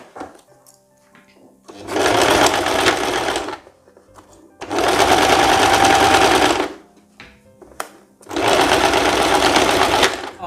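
A sewing machine stitches the darts of a summer dress in three loud, steady runs of a few seconds each, with quiet pauses between them and faint talk in the gaps.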